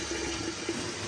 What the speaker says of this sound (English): The noise you're hearing right now is the automatic feeder.